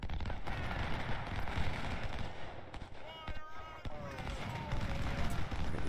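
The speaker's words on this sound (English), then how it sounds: "You should be shooting at them." Massed musket and artillery fire in the Civil War strategy game Ultimate General: Civil War, dense rolling volleys and crackling shots over a rumbling battle din, with a voice talking over parts of it.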